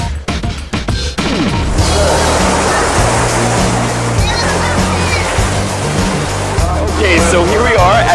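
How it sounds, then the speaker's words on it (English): Rushing water from the waterfall at the Cheonggyecheon stream entrance in Seoul pours in a steady, loud broadband wash after a brief start, with city traffic rumbling underneath and a voice speaking over it. "There's a waterfall here that marks the beginning and the spot"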